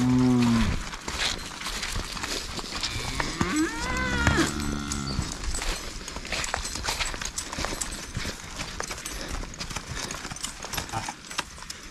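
Cattle penned at a draft horse rodeo moo in a couple of long, low calls near the start and middle, over a busy outdoor background of hoof clops, rustling and movement.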